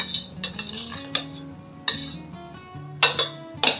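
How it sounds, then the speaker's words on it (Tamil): A spoon stirs Aadi koozh ingredients in a metal cooking pot, giving repeated scraping strokes and sharp clinks against the pot at an uneven rhythm, close and clear with no talking. "நல்லா கலந்து விட்டுருங்க"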